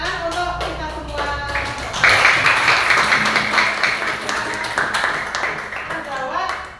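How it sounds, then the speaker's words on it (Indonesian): Hand clapping in a school classroom during a lesson on integers: a few separate claps at first, then a fuller burst of clapping from about two seconds that carries on to the end, with children's voices mixed in. "tepuk tangan untuk kita semua"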